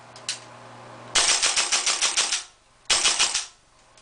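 Airsoft M4 with a JDT steel bolt carrier firing full auto: a close, loud burst of rapid rattling shots lasting over a second, then a shorter second burst.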